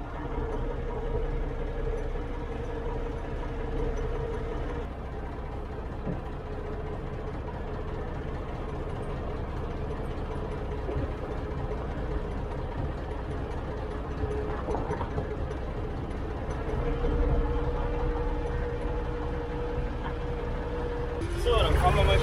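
A small Yanmar tractor engine rumbles steadily throughout, a heavy vehicle running with a constant drone and occasional shifts in pitch.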